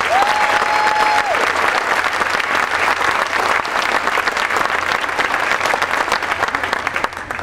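Dense, sustained applause from an indoor audience at a 2012 winter commencement for doctorate, specialist and master's graduates, honoring graduating armed forces veterans. Clapping stays loud and steady throughout, with a brief tone near the start.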